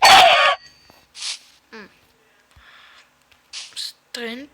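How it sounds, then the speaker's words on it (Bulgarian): Chicken in a video game squawking as it is struck and killed, a few short separate cries with gaps between, after a loud opening burst. "Но първо ще убием тази кокошка."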